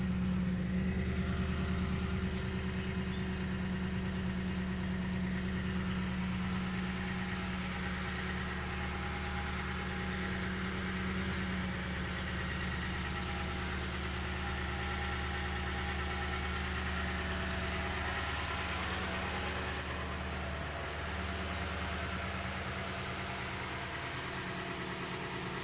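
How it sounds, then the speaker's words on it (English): A stock exhaust on a 2018 Toyota Tundra SR5 Double Cab 4x4 with a 5.7L V8 idles as a steady, even low rumble with a faint vibration, heard alone and at a modest level throughout. "Oh, that exhaust is completely stopped. Sounds pretty good for stock, doesn't it?"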